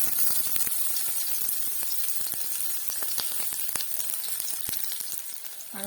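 Crushed garlic and chopped onion fry in hot oil, giving a loud, steady sizzle dotted with sharp crackles and pops that carries on without a break, with no voices.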